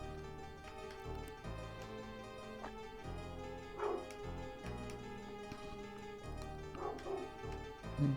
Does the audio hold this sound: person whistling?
no